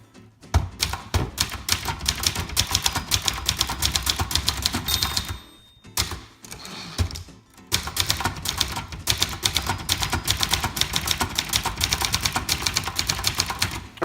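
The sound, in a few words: typing on a 1978 Brother Charger 11 typewriter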